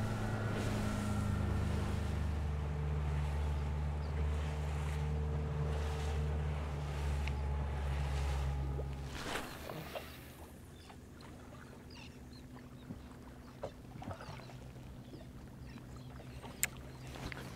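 Fishing boat slowing down near port off New Zealand on calm water, heard as a steady low engine drone that cuts out after about nine seconds, leaving faint water lapping and light knocks on the hull.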